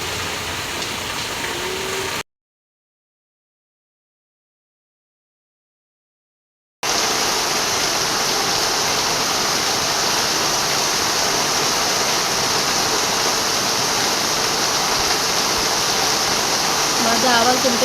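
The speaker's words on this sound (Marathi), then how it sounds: "भरलीचं पाणी एवढं फास्ट आहे," A swollen stream flows fast after heavy rain, making a loud, steady, broadband rushing roar close by that cuts out for several seconds and then resumes unchanged.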